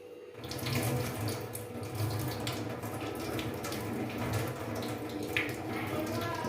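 Tap water runs steadily into a sink while potatoes are washed in a home kitchen, a continuous close splashing rush with no talk over it.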